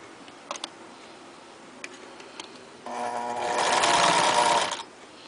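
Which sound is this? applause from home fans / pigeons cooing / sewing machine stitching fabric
sewing machine stitching fabric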